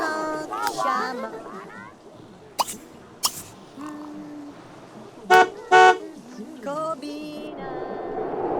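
A car horn honks in The Sims 3, two short, loud toots near the middle amid game sounds and German chatter.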